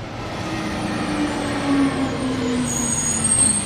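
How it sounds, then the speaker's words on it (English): A train approaches on a line toward Hastings, a steady, loud, rumbling drone with a low hum and high whine rising slightly toward the end, no voices. "we have a train coming this way, heading towards Hastings"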